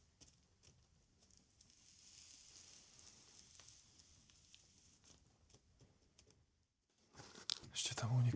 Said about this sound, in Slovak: Ešte tam uniká ten vzduch.